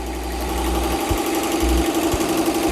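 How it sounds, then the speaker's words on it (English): A multi-needle embroidery machine stitches out yellow thread on a hoodie, a steady close mechanical hum and whir with low knocking pulses from the needle action, running continuously without talk. "Now it is stitching out the yellow thread."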